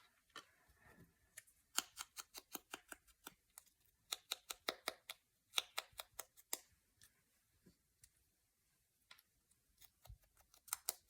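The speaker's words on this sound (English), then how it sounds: "These little stamps, I use my hair thinning scissors." Hair thinning scissors snip through paper to cut little stamps, giving a quiet series of crisp, quick clicks in irregular bursts with short pauses between.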